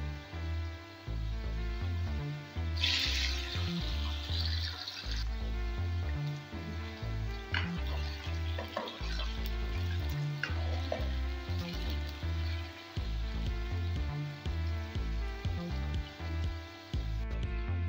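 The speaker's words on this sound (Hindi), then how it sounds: "ऑयल हमारा हो गया गरम, देखते हैं डाल देते हैं। अब फ्राइज डाल लेंगे।" Potato fries frying in hot oil, a steady sizzle and bubbling throughout, with background music playing over it.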